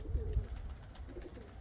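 White pigeons coo nearby, a few soft low throaty calls over faint outdoor background, with no talking.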